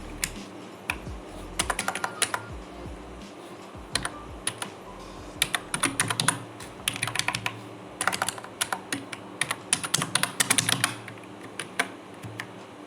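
Rapid clattering computer keyboard typing, bursts of keystrokes with brief pauses, close and crisp, including short key-combination presses used for copy and paste, with no talking.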